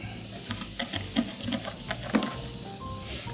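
Pancetta sizzling in its own fat in a pan, a steady crackling fry punctuated by repeated clicks and scrapes of stirring.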